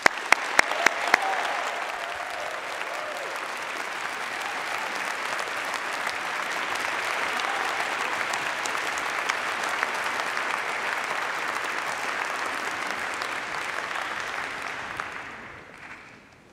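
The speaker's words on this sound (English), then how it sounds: "Please join me in a round of applause to the graduates." A large audience at an engineering graduation ceremony claps steadily for about fifteen seconds, a few sharp individual claps at the start, then the applause fades out.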